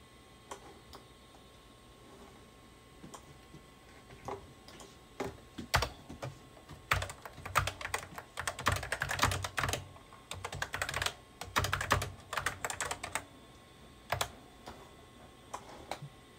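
Typing on the keyboard of an Apple Lisa computer, with sparse clicks that build into dense bursts of close, crisp keystrokes, pausing between flurries, with no voices.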